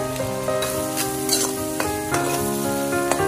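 Chili peppers tossed into a hot wok for a stir-fried tofu and chive dish, giving a steady, close sizzle with repeated scraping clinks of a spatula stirring throughout.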